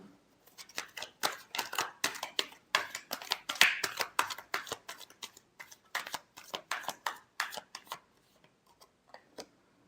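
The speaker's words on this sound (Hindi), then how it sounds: "Last shuffle." A deck of tarot cards is shuffled by hand in a fast, riffling run of crisp flicks and slaps, close up, with no talking.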